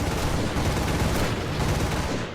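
Dense, continuous gunfire in War Thunder as an AI rear gunner fires on a Bf 110 C-4, a loud unbroken rattle that fills the whole moment.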